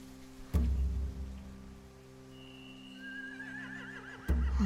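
Horses in The Walking Dead: The Final Season video game neigh twice, one sharp whinny near the start and another near the end, over a low ambient hum.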